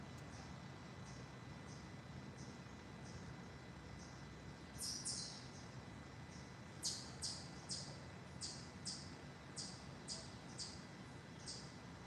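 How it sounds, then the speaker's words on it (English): An unidentified bird gives a chipmunk-like call, a series of short sharp high chips repeated at roughly regular intervals, growing slightly louder partway through, over a steady low outdoor rumble. "Not sure what kind of bird that is that's making that noise."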